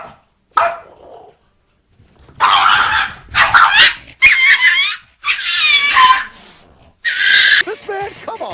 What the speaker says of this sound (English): here's my vicious dogs. I have 2 miniature schnauzers.